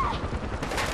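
Rapid gunfire in the Far Cry 4 campaign during an artillery mission, a dense, continuous burst of shots that rattles loudly through the whole second with no pause.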